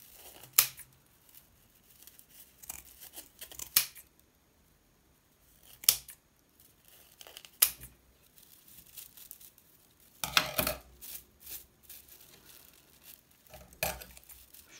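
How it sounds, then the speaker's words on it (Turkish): Scissors snip the excess paper-yarn threads of a crochet tassel in a series of short, sharp, close cuts spaced a second or two apart, with a quick double snip partway through. "kesiyorum fazlalık ipleri uç kısımdaki ve bu aralardan girerek saça kesiyorum."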